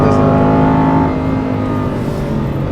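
A Porsche 992 GT3 Touring or Aston Martin Vantage held in second gear, its engine giving a loud, close, sustained rumbling rev that swells slightly then eases off, heard from inside the car.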